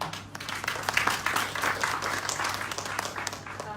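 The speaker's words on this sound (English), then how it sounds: "Please welcome them with a warm round of applause." A warm round of applause for a banking and Islamic finance panel at an event launch, steady dense clapping that holds at moderate level for several seconds with a faint low hum beneath.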